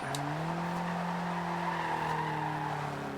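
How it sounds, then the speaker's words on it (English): A Toyota AE86 in Forza Horizon 2 slides through a four-wheel drift, its tires squealing in a sustained loud screech over a steady engine drone, with no talking. "Ooh, I got a little bit of four-wheel drifting there"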